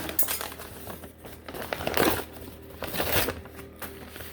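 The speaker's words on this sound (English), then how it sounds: "That's wax paper." A sheet of wax paper crumpled by hand inside a cabin, close crinkly crackling bursts that swell and fade in several waves, with no talk over it.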